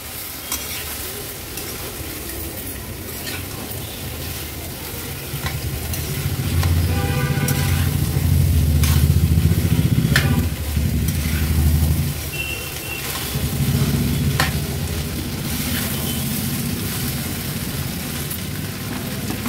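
Washed, soaked rice is stirred into vegetables in a pan for Agri-Koli style masalebhat, making a loud, steady sizzle with repeated close scraping strokes that swell in the middle and carry on to the end.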